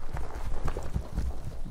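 Galloping horse hooves in the Silent Hill 2 video game, a rapid uneven clip-clop rhythm with low thuds, fairly close and steady throughout with no talking.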